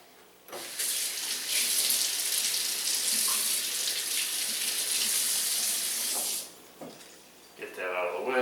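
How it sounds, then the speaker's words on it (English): Running kitchen tap water splashes while a knife is rinsed, a steady hissing gush lasting about six seconds before cutting off, followed by brief clatter and a voice at the end. "let me rinse my knife and we'll finish this up"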